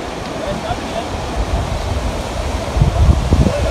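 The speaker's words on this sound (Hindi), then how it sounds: "ये देखिए नीचे से पानी आ रहा है" Water rushing below a swaying suspension footbridge in Upper Dir, a broad steady roar with wind buffeting the microphone, swelling louder toward the end.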